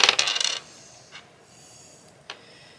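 Small dice clatter and tumble across a board game surface in a quick rattling burst, followed by two faint isolated clicks as they settle.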